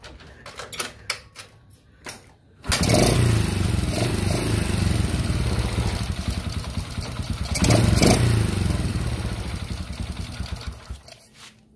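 A few clattering kicks, then a motorcycle engine running a stock ignition coil catches and idles loudly and steadily, revving up briefly partway through before settling again.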